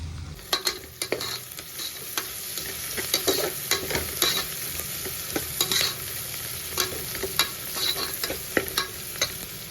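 Onions sautéing in a pan for a home-style vegetable pulao, a steady close sizzle broken by frequent sharp scrapes and clacks of stirring throughout, with no voices.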